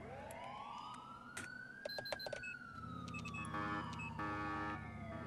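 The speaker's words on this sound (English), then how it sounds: "It's a beautiful air horn." Deep blaring air horn on a vehicle during police-patrol gameplay in GTA 4, with several short blasts and a sustained tone over engine and siren-like wailing, loud and close with no talk.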